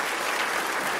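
An audience claps steadily for a doctor just introduced at a single-payer healthcare campaign event, a dense, even wash of many hands that stays loud throughout with no voices above it.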